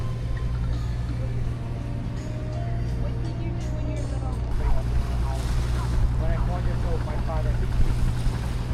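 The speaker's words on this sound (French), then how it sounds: "Bateaux locaux." Steady low motor drone of a local boat on water in Vietnam, with wind and splashing, and faint voices in the background.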